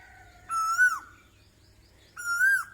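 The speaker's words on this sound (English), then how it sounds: "Our resident cuckoo, you can hear in the background." A cuckoo calls in the background of a farm garden with fig, moringa and eggplant plants, giving two clear, fairly loud tonal calls about two seconds apart over faint low background noise.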